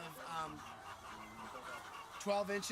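Chickens on Polyface Farm cluck and murmur in short, broken, close calls, with a louder cluster of clucks near the end over quiet farm background and faint speech.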